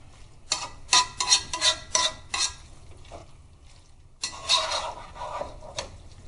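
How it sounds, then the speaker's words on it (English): A utensil stirs browning ground meat in a hot pan for spaghetti, making a close run of quick scraping and clattering strokes over a soft sizzle, then a brief pause before another burst of stirring. "Just keep stirring to redistribute the heat."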